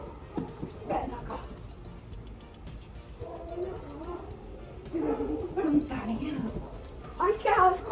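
A pet dog, the owner's oldest at nine years, whimpers and gives short yips close by while someone talks and calls to it in Spanish indoors.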